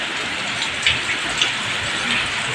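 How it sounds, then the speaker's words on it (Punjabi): Heavy monsoon rain pours in a steady, dense hiss, with a few louder drops standing out and no voices. "ਉਦੋਂ ਤੱਕ ਮੀਂਹ ਆਪਣਾ ਪੂਰੇ ਯੋਰਾ ਸ਼ਰਾਂ ਨਾਲ ਪੈਂਦਾ ਰਹਿਣਾ"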